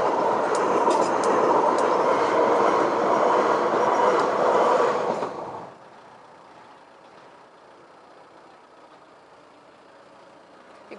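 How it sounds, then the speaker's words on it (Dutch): A train rumbles loudly past a railway level crossing for about five seconds, then cuts off abruptly, leaving quieter ambient noise with the fading rail sound and faint traffic. "Er komt nog een trein aan."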